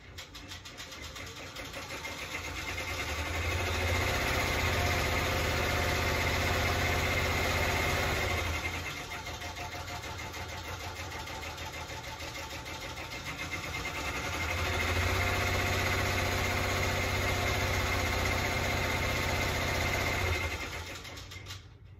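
An in-the-hoop embroidery machine sews a tack-down stitch on an applique tooth fairy pillow, a steady mechanical whir that runs loud for several seconds, eases briefly, then picks up again before stopping.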